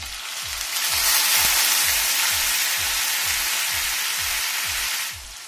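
Finely chopped tomatoes tipped into a pan of well-fried spices for mustard greens, bursting into a loud, continuous sizzle that holds steady for several seconds and then eases off, close by with no talk.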